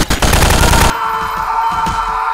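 Loud rapid gunfire in the Prop Hunt video game, a burst of automatic shots at close range that cuts off abruptly, followed by quieter fainter shots.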